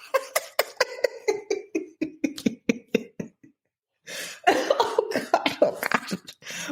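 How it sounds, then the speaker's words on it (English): A person coughs repeatedly in short, close, loud bursts, a run of sharp hacks followed after a brief pause by a denser, rougher coughing fit. "Oh God, my cough."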